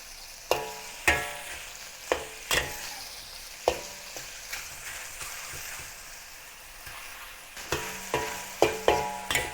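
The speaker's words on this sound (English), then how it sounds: "Stir fry the beef until it turns color on both sides." Beef stir-frying in a wok, steady sizzling oil hiss broken by repeated sharp clanks and scrapes of the spatula against the pan, close and fairly loud throughout.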